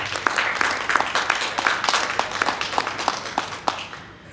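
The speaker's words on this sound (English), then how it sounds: "I want you also to give them a big round of applause" A smallish press-conference audience claps for roughly four seconds, individual hand claps audible within the moderate applause before it tapers off at the end.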